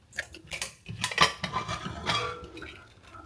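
A metal fork scrapes and taps against a pressure-cooker pot as it fluffs freshly cooked rice pulao topped with ghee. Close, irregular clinks and scratches come in quick bursts, with no voices.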